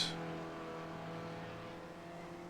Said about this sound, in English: There's a car in the pits. I can hear it. You can hear that engine.